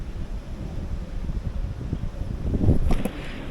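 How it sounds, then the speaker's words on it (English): Strong gusts of outdoor wind buffet the microphone during an herb-garden build, giving a steady low rumbling roar that swells louder near the end, with no voices. "It is really windy today"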